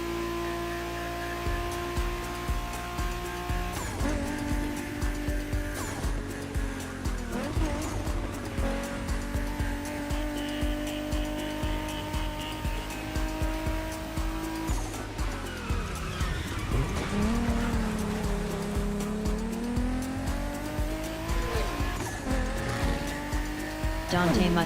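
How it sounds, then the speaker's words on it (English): Toyota Supra 880 in The Crew Motorfest racing game, its engine revving loudly and steadily with rising and falling pitch through gear changes and tires squealing in skids, a continuous close roar for the whole stretch. "That Supra 880, man, that sounds beautiful."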